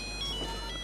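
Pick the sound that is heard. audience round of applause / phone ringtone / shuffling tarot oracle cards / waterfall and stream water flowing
phone ringtone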